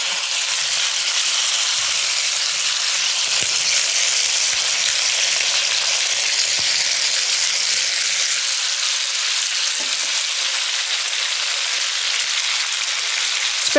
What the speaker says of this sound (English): it's okay if your pan looks a little crowded because these will start to shrink as they cook, so they'll fit in